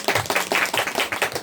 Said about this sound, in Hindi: ताली बजाएंगे एक बार जोर से।